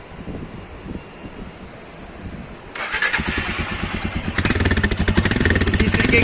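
A Royal Enfield Himalayan motorcycle engine starts and settles into a steady thumping idle, close and loud, then rises as the throttle is blipped, all over outdoor wind noise.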